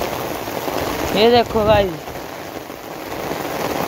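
Heavy rain pours steadily in a constant hiss, with someone speaking briefly over the downpour.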